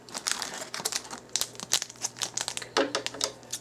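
Scissors cutting through the foil wrapper of a Japanese Yu-Gi-Oh OCG booster pack, heard as close, busy crinkling and snipping with irregular bursts of crackle throughout.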